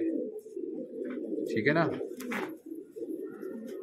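Pigeons coo in a low, throaty murmur beneath someone talking in Hindi, the soft rolling calls continuing steadily under his voice.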